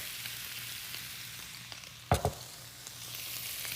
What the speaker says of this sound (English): Just for a second now, I'm going to add my rice. My cauliflower rice.